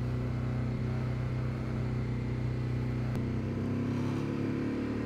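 A carbureted motorcycle idling on choke in the cold at a supercross track, a steady low, uneven engine drone running throughout at close range, the pitch dipping slightly partway through.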